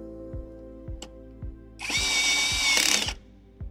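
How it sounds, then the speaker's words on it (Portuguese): A cordless screwdriver drives screws during furniture assembly, a brief whirring burst of roughly a second set between short clicks and light knocks, close and loud with no talking. "com a ajuda da parafusadeira, termine de fazer o aperto."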